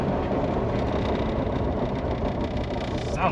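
A 1999 Jeep Wrangler TJ engine drones steadily at close range while driving with a failing transfer case, with rough mechanical rumbling and vibration throughout.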